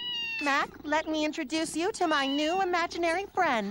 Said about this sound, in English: a little cat wanders in named Chuck